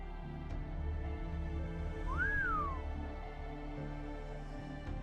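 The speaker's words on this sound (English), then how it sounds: "random whistle sound effect" A single whistle sound effect in the Fate/Grand Order video game, a brief rising-then-falling tone sliding over a steady background of game music.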